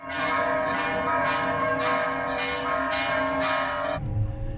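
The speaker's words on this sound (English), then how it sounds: "they're not musical bells, but I like them" Church bells in Morelia, Mexico ringing steadily in a continuous, clanging peal that stops abruptly near the end, leaving a low rumble.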